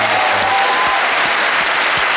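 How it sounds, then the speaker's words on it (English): A television game-show studio audience breaks into loud, sustained applause and cheering, a dense clapping roar that stays strong and even from start to finish. "Big cheer, please."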